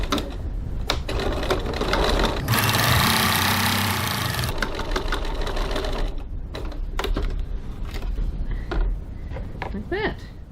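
A sewing machine top-stitches the top edge of a crossbody bag at a 3 mm stitch length, running in a steady burst of a couple of seconds, with clicks and handling noises around it.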